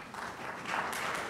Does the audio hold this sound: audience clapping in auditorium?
yes